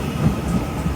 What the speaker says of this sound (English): Also arriving in now are a dual pair of Northern Trains